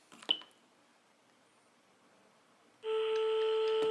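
Mobile phone being called from a landline during a Faraday cage test, a brief click and a long quiet, then a loud steady electronic tone that starts abruptly and holds to the end.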